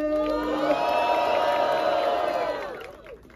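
A crowd at a rap battle in Londrina roars and shouts for a rapper, a loud sustained cheer with whoops that swells for a few seconds and then fades out.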